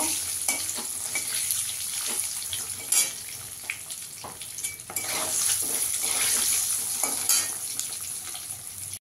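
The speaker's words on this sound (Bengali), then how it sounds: "হালকা করে একটু ডিমটা ভেজে নেব।" An egg crackles and sizzles loudly in hot oil in a pan while being cooked for chicken dak bungalow, the busy frying hiss broken by occasional scrapes and clinks of a utensil stirring.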